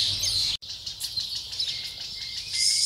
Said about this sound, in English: Mr. Quail sitting up on the tree. Hello, Mr. Quail.